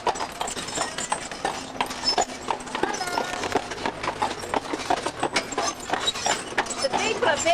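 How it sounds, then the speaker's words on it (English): Horse hooves clip-clop in an uneven trotting rhythm, fairly close, mixed with crowd noise and distant chatter. "Beautiful horses coming."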